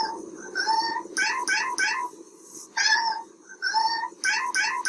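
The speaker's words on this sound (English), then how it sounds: "So there's our" A cat meows repeatedly in short, bright bursts, some clustered in quick runs with brief pauses between them, close and fairly clear with faint background noise.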